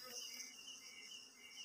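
Asian honey bees (Apis cerana) buzzing steadily during a honey harvest from a log hive, a faint, continuous close-up hum with no voices.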